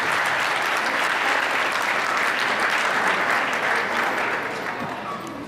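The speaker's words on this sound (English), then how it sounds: "Can you please give a big round of applause for everyone?" Dense audience applause after performers at a Diwali celebration stage event, sustained clapping from a large crowd that holds steady and then starts to fade near the end.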